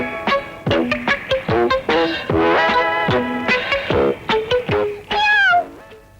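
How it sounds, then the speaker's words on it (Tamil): A kitten meows over and over in a quick string of loud, close, high cries, about a dozen calls packed into a few seconds. "என்னடி பூனை சத்தம் இங்கதான் எங்கேயோ கேக்குது?"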